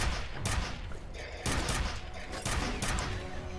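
A gun firing in the Xbox 360 shooter FEAR during a fight with many enemies: four loud, sharp shots about a second apart over a constant game rumble.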